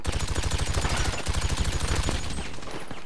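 Rapid automatic gunfire from a weapon in GTA V Online, with dense, continuous bursts of shots that stay loud and close throughout, with no talking.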